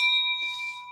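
A single church bell strikes with a bright sustained ring that decays slowly over one second, heard during a full peal attempt on a ring of bells.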